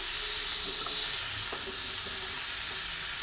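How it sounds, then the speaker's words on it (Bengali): Cucumber curry frying in a pan with a continuous dense hiss of sizzling oil and a few faint clicks of stirring, close and steady throughout. "আবার কিছুক্ষণ ভালোভাবে ভেজে নিচ্ছি"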